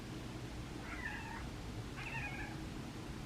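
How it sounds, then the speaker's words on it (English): Two drawn-out cat meows, one after another with a short pause between, fairly quiet over a low background rumble. "the two of them like to meow at each other"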